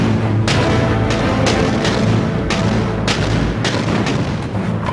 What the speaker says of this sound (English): On the 16th of April, the biggest artillery barrage of the war commenced.